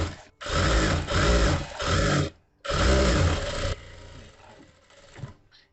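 Domestic sewing machine stitching a blouse lining at the corners, running in three steady bursts, then one longer burst, with short pauses between them before a quiet tail.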